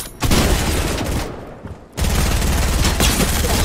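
Dense, loud bursts of automatic fire from an exotic weapon in a video game, one sustained volley, a short lull, then another continuous barrage close up.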